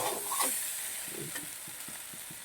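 Taki fish frying in oil in a wok, giving a steady soft sizzle with a few stirring scrapes and light taps of a utensil near the end, close by with no talking.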